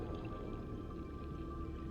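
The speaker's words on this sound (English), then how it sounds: "There's an underwater waterfall." Underwater waterfall in Subnautica, a dense low continuous rumble of rushing water with a faint steady hum over it, heard close and unbroken.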